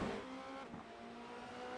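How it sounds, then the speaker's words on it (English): A Formula Renault race car crosses the finish line at the end of the opening lap of a circuit race, its high engine whine heard faint and distant for under two seconds. "crosses the line, starts lap two, ahead of Wingfield and Alex Van Gien"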